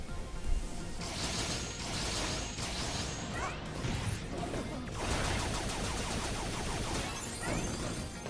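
Boss fight in the video game Mighty No. 9, a dense, continuous barrage of blaster shots, crashes and whooshing effects over an unbroken layer of game noise, loud and busy for the whole stretch.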